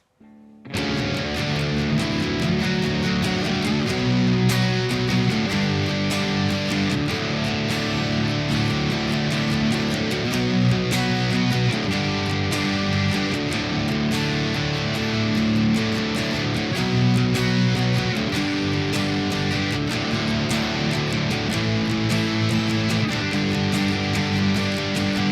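Electric guitar plays the chorus of a song as continuous driven strumming. The chords are steady, dense and loud, close up, and run without pause for about twenty-five seconds with no voice.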